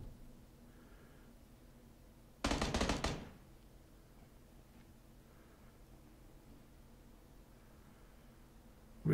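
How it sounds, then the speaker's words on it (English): Gunfire in the video game PUBG on a foggy map, one short burst of rapid shots about a second long against a quiet background. "More shots to the right."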